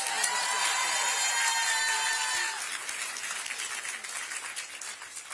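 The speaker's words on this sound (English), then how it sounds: "Let's give her a big round of applause." Crowd at an outdoor groundbreaking ceremony for a women's soccer and WNBA training facility clapping and cheering loudly for a league commissioner, with whoops early on and the applause thinning toward the end.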